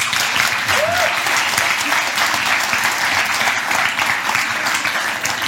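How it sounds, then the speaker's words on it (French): A church congregation claps steadily at a baptism service, a dense sustained wash of hands that runs close and loud for the whole stretch with no pauses. "Est-ce qu'on peut l'applaudir, Christian ?"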